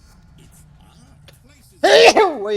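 A game character in Dota 2 gives a single sharp sneeze near the end, loud and close, after a stretch of quiet game sounds and brief speech.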